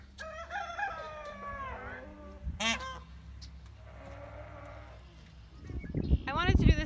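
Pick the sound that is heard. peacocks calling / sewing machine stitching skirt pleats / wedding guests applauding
peacocks calling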